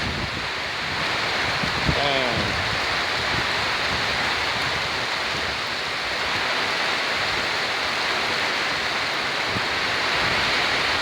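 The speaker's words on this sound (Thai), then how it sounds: "ฝนตกอีกแล้วครับ" A dense, steady roar of heavy rain with wind gusts, heard from inside a hut in Ban Kruat, Thailand, with a brief faint voice near the start.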